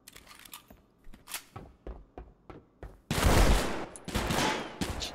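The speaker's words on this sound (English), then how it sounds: "I'm in a revolver duel." Revolver shots in a video game duel crack out as a run of single reports, faint and spaced at first, then louder and denser near the end.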